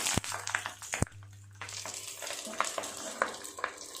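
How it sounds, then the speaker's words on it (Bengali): Prawn paturi parcels hiss and sizzle as they go into hot oil, with a steady frying crackle, a few sharp clatters of utensils and a low hum underneath throughout. "তেলটা খুব ভালোভাবে গরম হয়ে গেছে এক এক করে দিয়ে দেবো চিংড়ি মাছের পাতুরিগুলো"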